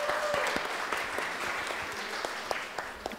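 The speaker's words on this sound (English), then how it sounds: "Let's give another applause for Aulia's family." Guests at a wedding reception applaud in a brief burst of moderate clapping that fades gradually.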